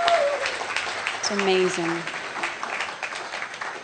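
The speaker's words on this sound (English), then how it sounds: "One more round of applause." Audience applause for a poet and singer at a live arts event, a moderate wash of clapping under a voice speaking briefly.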